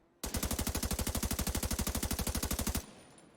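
A video game gun fired from the hip rattles off a rapid, steady automatic burst of roughly forty evenly spaced shots over about two and a half seconds, loud and close, then stops abruptly with a short fading tail.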